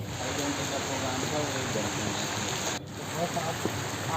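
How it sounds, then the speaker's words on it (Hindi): Heavy monsoon rain falls steadily at an outdoor university convocation dome construction site, a dense constant hiss with a brief dip near the end, and faint voices underneath. "आज है 4 जुलाई और फिर से भारी बारिश।"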